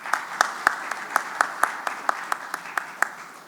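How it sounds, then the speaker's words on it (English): Audience applause at a plastics industry conference keynote in a hotel hall, a thin scattering of claps at a steady rhythm, a few standing out close and sharp, fading out toward the end. "I request the audience to give a big clap."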